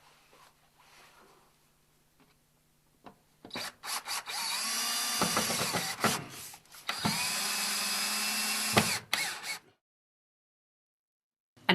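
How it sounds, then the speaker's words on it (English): Power drill driving screws to fix a patch of drywall or OSB over an attic opening, heard up close as two sustained high whining runs with brief stops and a final silence. "Fasten it into place with screws."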